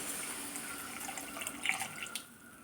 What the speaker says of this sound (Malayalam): കൂർക്ക വേവിക്കാൻ ആവശ്യമായ വെള്ളം ഒഴിച്ചു കൊടുക്കാം